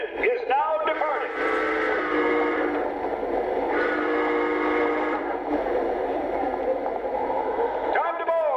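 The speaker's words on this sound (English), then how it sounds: "The 20th Century Limited is now departing." Lionel Dreyfuss Hudson 1938 20th Century Limited model train pulls away with a steady mechanical hum and rolling rumble, broken by a few whistle-like tonal sweeps near the start and end, with a voice announcing over it.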